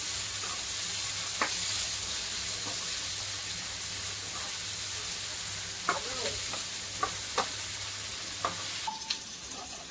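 Chopped onion frying in a pan, a steady close sizzle and hiss carrying on throughout, with a handful of sharp spatula taps and scrapes near the end and no speech.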